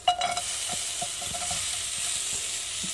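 Sliced onion sizzling in hot oil on medium heat for a homegrown green bean fry, a broad steady hiss close by with a quick clatter at the start and soft stirring ticks throughout, no voices.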